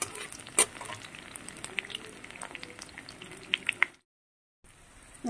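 Turmeric is stirred into hot oil in a pan with greens, giving a soft close sizzle with occasional spoon clinks against the pan, then a brief pause before the frying resumes.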